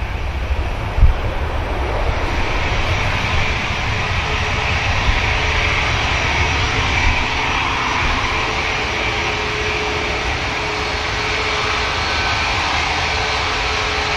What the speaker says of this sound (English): There goes Ryanair, beginning the climb.